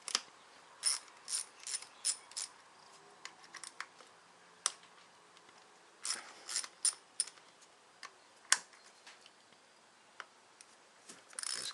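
A ratchet with a 10mm socket loosens the ignition coil bolts on a Chevrolet Malibu 2.4L Ecotec engine, giving quick bursts of close, crisp clicking in irregular runs separated by short pauses.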